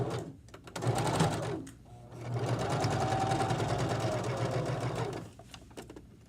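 A sewing machine stitches a drawstring bag in two close, steady runs of rapid mechanical whirring, separated by a short pause, with a quieter stretch at the start and end.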